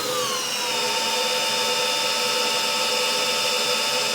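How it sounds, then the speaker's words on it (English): A loud, steady electric drill whine running continuously, its pitch gliding slightly downward at first as it drives a car alternator under charging load, then holding steady. "So that's full power on the drill. I'll flick the switch."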